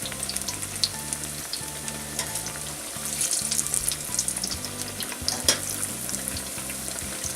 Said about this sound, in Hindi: सभी को पलट दिया है और इनको दूसरी साइड भी हम फ्राई होने देते हैं